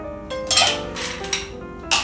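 Ice clinking and rattling in a glass as a martini-style cocktail is stirred, with a few brighter clinks and scraping swirls at moderate loudness, close by.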